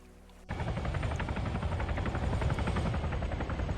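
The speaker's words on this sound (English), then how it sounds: "So this heli now flying around." A helicopter in the video game Arma 3 flies nearby, its rotor kicking in suddenly as a loud, dense, rhythmic chop that continues steadily after a brief quiet start.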